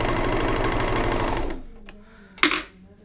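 A serger sewing machine runs at a loud, steady whir while chaining off threads, then stops abruptly, followed by a couple of brief clicks and a short rustle.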